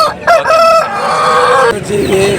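A one-year-old Nemali aseel rooster at a Nellore aseel fowl market crows loudly and close by, one long drawn-out call lasting about two seconds, with faint market voices underneath.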